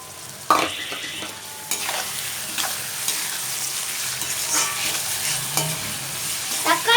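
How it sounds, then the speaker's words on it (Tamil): Onion and tomato sizzle and sauté in a pan for Sankara fish gravy, with steady frying crackle and repeated scraping stirs of a spoon close by, no voices. "தக்காளி சேர்த்து நல்லா வதக்கி விட்டுக்கோங்க."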